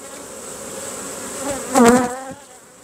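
Honey bees buzzing over an open beehive frame of capped brood and nectar, a steady hum that swells into one close, louder buzz as a bee passes near, then settles back.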